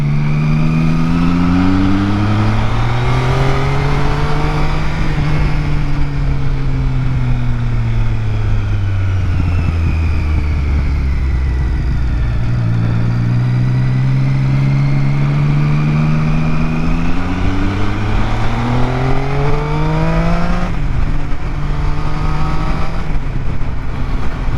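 A young driver's Mercedes revs hard and speeds past, its engine note rising and falling in long sweeping pitch glides as it accelerates, loud and close throughout with no talking.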